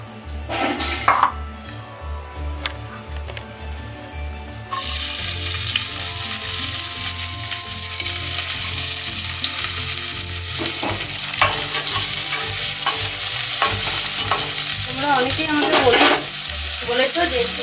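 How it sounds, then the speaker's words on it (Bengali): Chopped onions hit hot mustard oil in a pan, bursting into a loud continuous sizzle after a quieter stretch, with scattered spatula scrapes, clinks and stirring strokes close by, no voices. "সর্ষের তেলটা দিয়ে দিলাম তেলটা গরম হচ্ছে এরপর আমি দিয়ে দেবো পেঁয়াজ কুচি"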